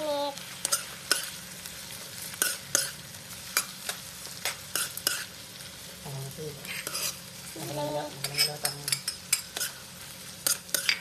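Shrimp stirred and frying in a pan for buttered shrimp, with repeated sharp scrapes and taps of a spatula over a constant sizzle, close up and rhythmic, with brief faint voices in the background.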